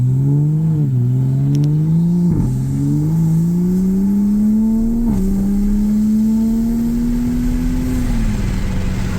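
A BMW M3's S55 engine revs through its Valvetronic exhaust, a loud, close, continuous note that climbs steadily in pitch with a few brief dips between pulls, with no voices.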